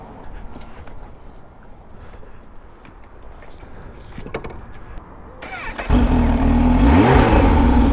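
Quiet rustling gives way to a motorcycle engine roaring to life close by and revving up loudly as it pulls away.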